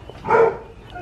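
A single short dog bark, moderately loud and a little distant, heard outdoors in a home yard in Texas, with no talking over it.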